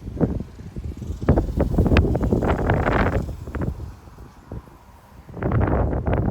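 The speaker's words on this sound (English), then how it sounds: "Yeah, the wind likes to get trapped in this little porch area." Strong wind gusts buffet a small porch in Frisco, Texas, in loud rushing, rumbling bursts with rustling, easing briefly near the middle before surging again, with no talking.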